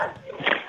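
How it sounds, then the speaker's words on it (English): A dog barks and yelps indoors, apparently at a passing garbage truck, in one short, fairly loud burst over steady background noise. "put a muzzle on that dog"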